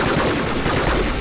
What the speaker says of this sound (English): So everyone's shooting at everyone else.